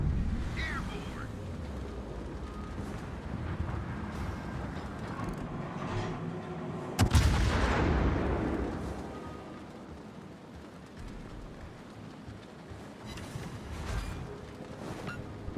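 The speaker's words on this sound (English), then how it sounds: "One bomb hit." Bomb hits exploding on a warship in the World of Warships naval combat game, a sudden heavy boom midway that rolls off into a long rumbling decay over steady engine and sea drone.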